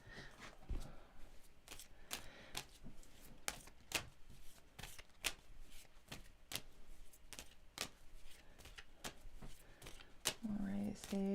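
Tarot cards being shuffled in a series of crisp, repeated riffling bursts, close and moderately loud, with a voice speaking in between.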